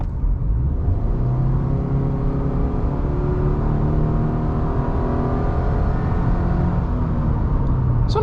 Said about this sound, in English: So going 25, I'm just gonna mash the throttle and see what happens.